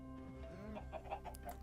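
Chickens cluck in a short burst of repeated clucks from a Minecraft flock, heard alone without speech over a steady low game background.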